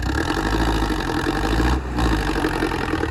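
A steady, loud tractor engine idles and rumbles throughout with a low, even drone, dipping briefly near the end before resuming.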